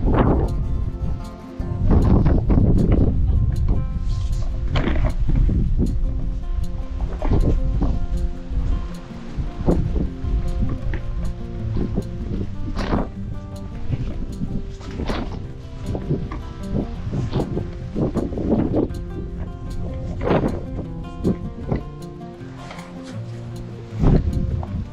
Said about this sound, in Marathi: खूप वारा सुटलेला आहे इथे.